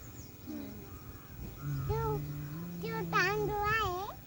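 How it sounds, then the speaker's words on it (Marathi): A crow perched on a tower gives a few harsh caws near the end, faint against the surroundings, while a young child and an adult talk softly nearby. "कावळा हा बघ टावर वर बसला इकडे"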